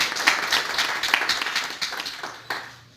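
An audience at a book launch applauds in a crowded burst of clapping that peaks early and gradually fades over a few seconds.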